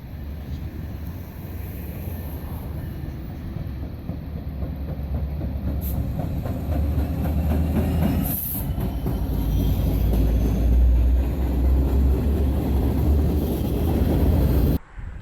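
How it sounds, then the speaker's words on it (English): A Norfolk Southern GP59 Eco locomotive pulling a train passes close by on the Lehigh Line, a loud continuous rumble of engine and rolling wheels with clicking rail joints and a brief horn-like burst midway. "Before leaving Phillipsburg, we catch one more train."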